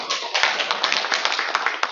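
Audience applause at a National Assembly ceremony for World Couples Day: dense, steady clapping from a crowd, loud and sustained throughout, with no voices.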